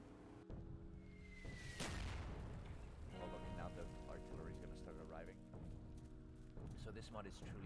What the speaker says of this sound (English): this mod includes all mortars